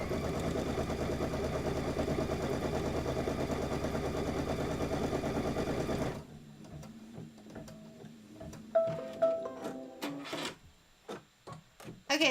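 An embroidery machine quilts a Kimberbell Quilting Through the Seasons block with a steady, rapid whirring for about six seconds, then stops, leaving scattered clicks and handling taps.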